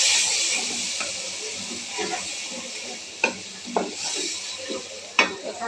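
Beef masala of ginger-garlic paste, cumin paste, garam masala, cinnamon, cardamom and bay leaf frying in a pan, a continuous bright sizzle with several distinct scraping stirs, the last near the end the loudest.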